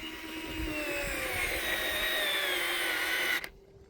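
A cordless screwdriver whirs steadily as it drives a screw into an inch-thick pine or spruce board, its motor pitch sliding down under load before cutting off abruptly near the end, close and alone.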